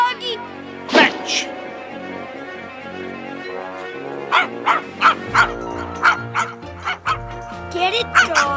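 A cartoon dog barks in short yapping bursts, some single and some in quick clusters, over an upbeat animated score with light character voices.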